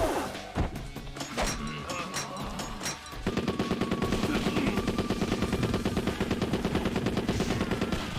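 Gunfire in the video game Yakuza 2, starting with a few heavy thuds and crashes, then settling into a steady, rapid stream of shots for about five seconds amid the game's action.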